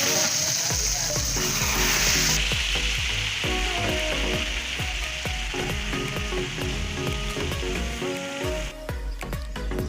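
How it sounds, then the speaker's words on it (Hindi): Hot spiced tempering oil sizzles loudly as it hits a pot of kadhi curry, crackling steadily, with a spoon scraping and clinking against the metal in a rapid rhythm. "अब इसको हम लगाएंगे तड़का।"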